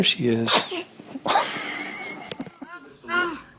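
A baby gives a sharp little sneeze, close and clear, among adults talking and exclaiming around it.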